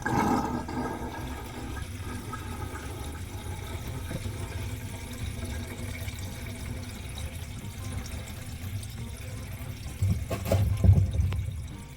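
Water drains through a newly installed pop-up drain in a replacement undermount sink, a steady low gurgling rush that swells louder near the end.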